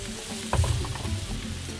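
Paella ingredients sizzling in the pan, a steady close frying hiss with a soft thump and stirring near the middle, no voices.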